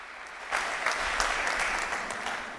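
Applause from a church congregation during a sermon, a burst of clapping that swells quickly and holds steady, fairly distant and even, with no talk over it.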